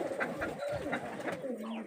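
Pigeons coo repeatedly in a pigeon and chicken coop in a date palm orchard, soft and close, with overlapping rhythmic calls and no talking.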